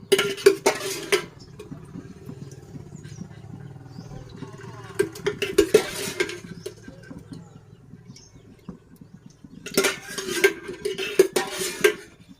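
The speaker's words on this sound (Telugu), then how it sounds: "ఇలా బాండీ పెట్టుకొని ఆయిల్ పోసుకుందాం." A cooking pan (kadai) is set down on the stove and oil is poured in while making a village-style broad bean curry, heard as several short metallic clatters and clinks separated by quieter stretches.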